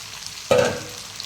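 Chopped onions for chili chicken hit a hot pan with a sudden close burst of sizzling that quickly fades to a low hiss.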